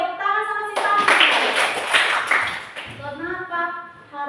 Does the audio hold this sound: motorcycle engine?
no